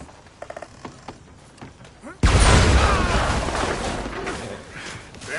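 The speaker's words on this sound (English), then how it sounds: "Guess they'll just listen for the explosion." Loud explosion in Red Dead Redemption 2 bursts suddenly after a few quiet clicks and shuffles, its deep rumble slowly fading over several seconds.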